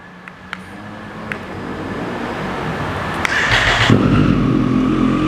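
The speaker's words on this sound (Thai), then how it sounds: "คันนี้มาพร้อมท่อแต่งจากอาคาปวิกครับ เป็นของแท้เบิกศูนย์ครับอย่ามาฟังศูนย์เสียงท่อคันนี้กัน" A 2020 Triumph Street Triple 765RS with an Akrapovic exhaust: a few faint clicks and a low background hum, then the engine fires at about 3.5 seconds and settles into a loud, steady idle.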